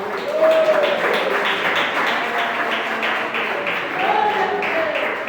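A church congregation claps together in praise during a Portuguese-language service. The steady, dense clapping runs the whole time under a faint voice.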